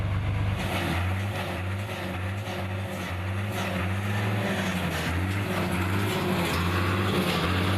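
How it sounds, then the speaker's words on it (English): A farm tractor's engine drones steadily and loudly on a fenced pasture livestock farm, a low, even rumble that continues unbroken from start to finish. "he rides a tractor to bring food for the herd"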